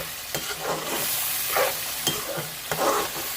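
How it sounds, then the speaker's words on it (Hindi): Chicken pieces for a chicken karahi with chapli kabab masala fry and sizzle in a hot pan, with steady broadband crackle under a few clanks of a spoon stirring against the pan. "और अब इसे थोड़ा सा भूनेंगे हम।"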